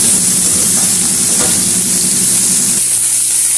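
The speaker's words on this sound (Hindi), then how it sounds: "फ्राई करते हैं, उसको गुलाबी होने देते हैं।" Chopped onions frying in a pan with oil for an instant paneer dish made with tomato, a steady close sizzle and hiss running throughout, with occasional stirring.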